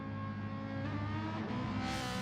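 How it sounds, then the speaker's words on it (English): A Ferrari F1 race car engine in a racing game on F1 tracks drones steadily with a high, harmonic whine that rises in pitch near the end as it revs up, fairly quiet and alone. "I'm going to go with the Ferrari again."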